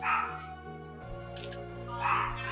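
Several dogs bark and yip at a household, loud at the start and again near the end, a whimpering yelp between, all over a steady hum of game audio from a PC.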